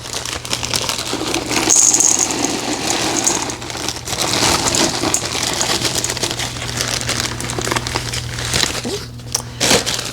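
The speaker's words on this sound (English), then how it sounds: "now we add the chocolate chips, the candy, and the nuts" Chocolate chips and Hershey candy bars pour and rattle from a plastic bag into cookie dough, a steady crinkling and pattering that runs throughout at close range, with brief sharper clicks near the end.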